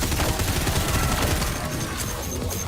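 Rapid, sustained machine gun fire in Wrack: Reclamation, a loud, dense stream of shots with no gaps that eases slightly toward the end.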